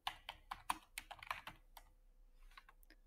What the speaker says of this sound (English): Let's type in supply chain.